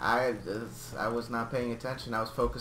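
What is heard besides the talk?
No distinct noise like a dog, phone or traffic.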